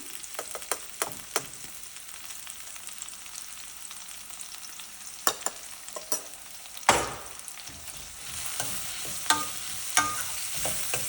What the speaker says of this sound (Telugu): ఆనియన్స్ అలా వేగుతున్నప్పుడే కొంచెం పసుపు వేసేసుకుంటున్నాం.